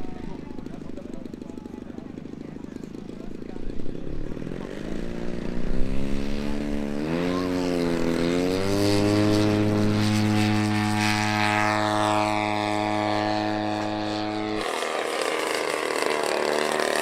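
A model airplane, a Swiss two-surface glider of extended design covered in film from a Sebar kit, flying and landing at a model aircraft meet on an airfield in Místek, its steady engine tone sliding in pitch before cutting off abruptly.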